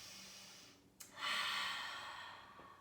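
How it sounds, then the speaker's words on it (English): A single slow, deep breath drawn in through the nose during a yoga session, soft and close after a brief quiet moment, with a faint airy rush that gently tails off. "Take a breath in."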